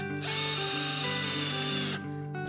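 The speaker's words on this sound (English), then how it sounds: "Sometimes I don't screw it in all the way in case I need to make adjustments." A cordless power drill drives a screw into a wooden rocking horse in one steady, loud whine of nearly two seconds that stops abruptly, heard close up with no talking.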